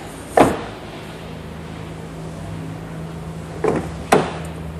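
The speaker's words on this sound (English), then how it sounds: "Doors open up, nice and wide," Doors on a 2010 Subaru Forester click and thunk close by, one sharp latch sound near the start and two more quick clunks a few seconds later over a quiet steady hum.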